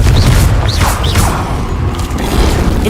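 Confringo spell explosion in Hogwarts Legacy: a loud, dense booming blast with rumbling low end and crackling, whooshing bursts repeating throughout, close and continuous.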